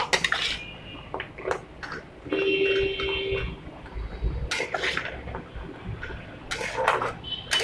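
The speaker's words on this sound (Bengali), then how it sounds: "এবারে এগুলোকে এরকম সমানে নাড়তে থাকবো।" Murali sweets are stirred steadily in a pot, a spoon scraping and clinking against the metal in irregular bursts, close and without speech.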